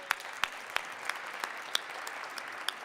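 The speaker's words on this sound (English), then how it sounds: "Give yourselves a round of applause." Applause from a community audience at a District of Columbia budget forum held in a high school, sparse distinct claps spaced out and fairly faint, tapering.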